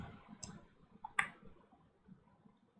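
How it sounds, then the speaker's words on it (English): A computer mouse double-clicks, giving a pair of quick, sharp clicks near the middle over faint background noise, with a few softer ticks scattered around it. "let's double click on that"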